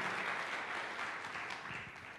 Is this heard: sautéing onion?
no